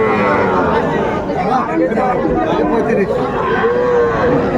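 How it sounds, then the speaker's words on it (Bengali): Cattle lowing amid a busy livestock market crowd, deep moos rising over dense chatter and bargaining voices close by. "যেদিকে তাকায় শুধু গরু আর গরু"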